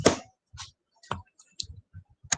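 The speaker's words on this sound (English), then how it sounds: "let me double check with my calculator here" Calculator buttons pressed in a quick series of distinct clicks, about five or six separated presses over a couple of seconds, close and fairly quiet with no talking.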